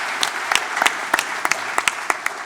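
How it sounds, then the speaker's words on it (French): An audience applauding: scattered, uneven hand claps with individual sharp claps standing out over a softer background patter, a small crowd heard up close for a couple of seconds. "On les applaudit."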